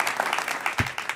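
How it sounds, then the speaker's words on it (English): Brief applause from an audience at an Urban League forum for Cynthia Hurd, a soft patter of clapping with one sharper thump. "Let's give Cynthia a big round of applause."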